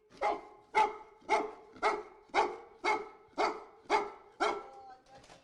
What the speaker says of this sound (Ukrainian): Ось так нетерпляче та впевнено службовий пес привертає увагу до своєї знахідки під час тренування.